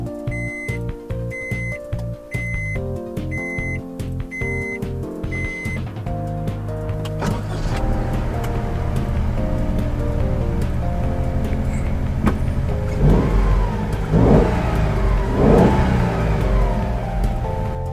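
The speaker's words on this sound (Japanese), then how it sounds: "キーがね、あるんで、エンジンつけさせてもらいます。" A Honda S660 Modulo X with its engine mounted behind the seats: rhythmic chimes and whirs as the key is turned, then the small rear engine catches and idles loudly, with a few rising revs near the end.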